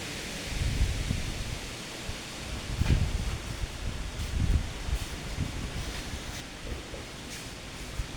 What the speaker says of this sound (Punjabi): ਆਪਣੀ ਹਨੇਰੀ ਆ ਗਈ ਆਪਣੇ ਬਹੁਤ ਜ਼ਿਆਦਾ ਹਨੇਰੀ ਆ